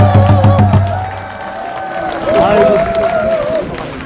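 A crowd at a political speech in Korea claps and cheers under amplified talk and background noise, the applause a loose, mid-level patter beneath the voices throughout.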